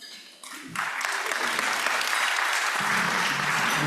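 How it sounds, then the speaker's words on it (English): Polite, sparse golf-style clapping from a meeting audience greeting a speaker, starting thin and quickly swelling into steady, moderate applause that holds for a few seconds. "I got a golf clap."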